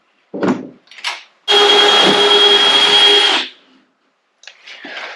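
A power drill bores slowly into a steel bar for a DIY expedition camper build: a couple of brief bursts, then a sustained two-second whine with grinding scrape, stopping abruptly before a short final clatter.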